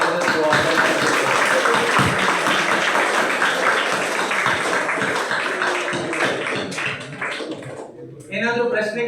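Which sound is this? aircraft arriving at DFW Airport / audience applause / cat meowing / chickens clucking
audience applause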